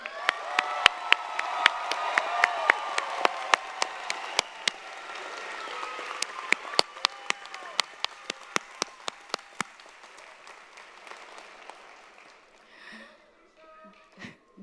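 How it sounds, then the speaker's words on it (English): A commencement crowd applauds graduates with scattered sharp claps that thin out and fade toward the end. "Thank you, everyone, for being here today to applaud our graduates."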